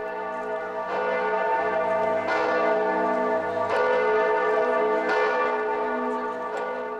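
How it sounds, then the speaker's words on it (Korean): Church bells ringing in Florence, several loud, resonant strikes about every one and a half seconds, each tone lingering and overlapping the next, heard alone without voices. "종소리는 잠들 때까지 제 귀를 울리고 있었습니다."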